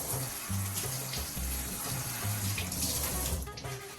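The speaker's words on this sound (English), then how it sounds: "you take it and you just rinse it with some water" A kitchen tap runs steadily while matzah is rinsed beneath it, the stream splashing loudly and continuously with small shifts as the sheet is moved under the water.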